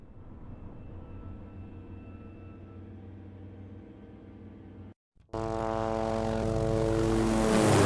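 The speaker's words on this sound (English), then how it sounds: "the characters escape and come outside to a crashing helicopter" In the game Dead Island, a crashing helicopter gives off a steady droning engine hum for about five seconds. After a short silence it bursts into a much louder, roaring, noisy blast that swells toward the end.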